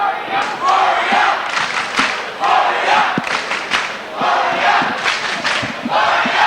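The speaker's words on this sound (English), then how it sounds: "Well, this capacity crowd going absolutely bonkers, Hammer." A capacity crowd at a kickboxing fight roars and chants in rolling, sustained waves, loud and dense throughout, with occasional thuds and no clear speech above the din.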